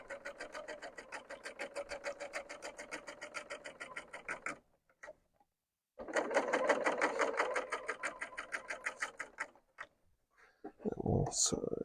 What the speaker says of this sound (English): I'm just going to line up at the bottom, and we'll just sew all the way down.